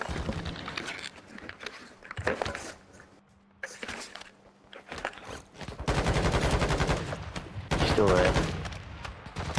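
Video-game gunfire laying down covering fire in DMZ comes as rapid automatic bursts in several volleys between pauses, with the longest and loudest stretches near the end.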